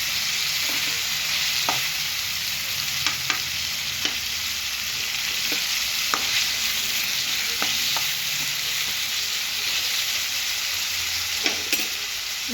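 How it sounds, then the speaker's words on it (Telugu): Tomatoes for a dhaba-style chicken curry cook over a high flame, giving a loud, continuous sizzle with occasional scraping stirs and clicks, no voices over it. "హై ఫ్లేమ్లోనే పెట్టుకొని మగ్గించుకోండి టమాటాలు"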